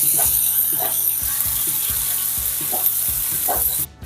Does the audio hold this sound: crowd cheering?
no